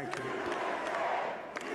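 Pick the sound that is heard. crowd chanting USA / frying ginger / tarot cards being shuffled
crowd chanting USA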